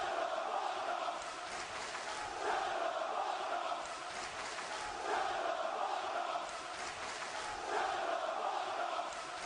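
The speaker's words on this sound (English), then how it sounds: "He's really riling up this crowd here." Crowd at a live wrestling event jeering and shouting, a dense roar of many voices swelling in waves every few seconds, moderately distant and continuous.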